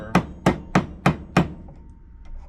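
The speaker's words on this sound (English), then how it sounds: "as I'm beating this, it's actually coming a little bit untwisted" Hammer beating a twisted copper torque bracelet: five sharp, evenly spaced metallic strikes close up, then quiet ringing.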